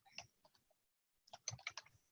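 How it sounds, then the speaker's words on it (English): Typing on a computer keyboard, quick bursts of crisp key clicks close to the microphone, a short cluster, then a pause, then a denser run of taps in a quiet room. "I'm typing in the chat."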